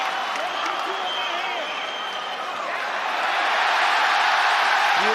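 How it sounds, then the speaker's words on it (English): An arena crowd at a UFC 284 mixed martial arts bout roars in a sustained, swelling wave of cheers and applause, with a few whistles and shouts rising through it. "Listen to this crowd."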